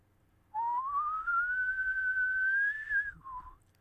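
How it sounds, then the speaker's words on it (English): A person whistles loudly through pursed lips, one long sustained note that rises slowly in pitch, holds, then breaks off with a short lower tail, alone in a quiet room. "Just give me your loudest whistle that you can muster up right now."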